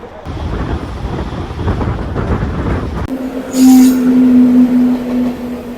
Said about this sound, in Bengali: বন্দে ভারত এক্সপ্রেস 10-এর বর্ধমান হাওড়া 94 স্পিডে চলছে।